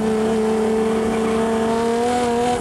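A 1985 touring race car at the Snetterton 24-hour race, a loud, close engine note holding a steady pitched drone that rises slightly, sustained without a break.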